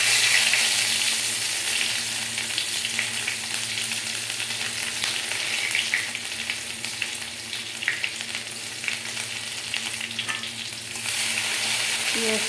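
Onions sizzle steadily in a hot pan, a dense, continuous hiss heard up close with faint stirring scrapes and no talking.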